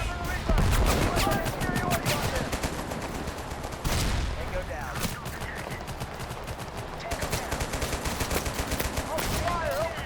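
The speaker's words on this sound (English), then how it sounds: "Getting shot from behind. I think that's my team shooting me." Dense, rapid gunfire from the video game Total Conflict: Resistance rattles almost without pause for ten seconds, loud bursts overlapping, with a player's voice talking over the shooting.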